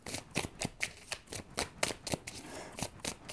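Oracle cards shuffled and flipped by hand, a quick run of crisp papery riffles and snaps in an irregular rhythm, soft and close, with no talking.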